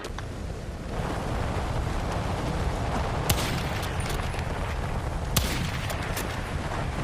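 Steady Battlefield 6 gunfire and battle noise rumble throughout, with two sharp louder shots cutting through; no voices.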